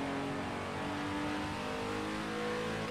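A McLaren F1 race car engine drones steadily at high revs in Project CARS 2, a constant, even-volume roar heard alone.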